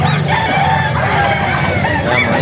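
A gamecock bull stag crows loudly and close at a busy poultry auction market in Bocaue, with clucking fowl and a faint crowd murmur behind.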